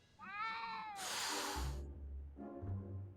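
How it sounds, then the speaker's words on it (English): A cat in the Back to the Future video game gives a drawn-out meow followed by a sharp hiss and then a shorter, lower meow, close and clear, with no talking. "I don't even know where the cat is."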